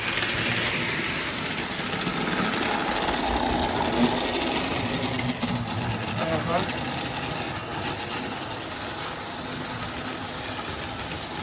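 A vintage Lionel toy train locomotive spins its wheels on the track with a steady mechanical whirring buzz, continuous and fairly loud throughout, like a small motor running without traction.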